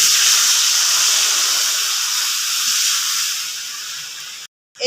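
Water poured into a hot pan with turmeric bursts into a loud, steady steam hiss that holds close and strong for several seconds before cutting off abruptly.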